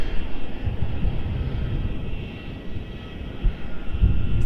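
A Jetstar Airbus A320 at Melbourne Airport produces a low, rumbling jet engine roar, close and steady with gentle swells in loudness across a few seconds.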